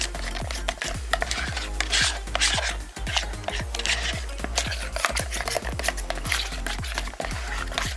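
Screen printing ink being mixed by hand in a container, heard as a steady, rhythmic series of close scraping and sloshing strokes repeating several times a second, with no talking.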